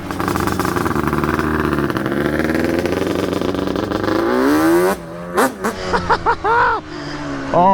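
A Yamaha Banshee ATV engine, resto-mod build, revs loudly and climbs in pitch, then is blipped in a series of sharp separate throttle bursts.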